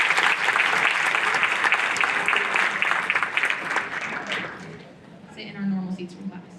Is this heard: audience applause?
yes